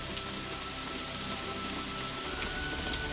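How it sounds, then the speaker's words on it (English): Heavy lashing rain pours down at Loughmacroy Lake in County Tyrone, a dense, continuous hiss of drops striking surfaces close around, steady throughout with no voices. "That's just normal lashing rain now."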